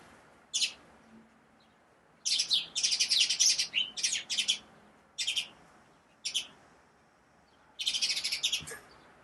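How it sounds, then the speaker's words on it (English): Birds chirp very close, in loud high bursts of rapid tweets separated by short quiet gaps, with no voices. "These birds are way too close right now."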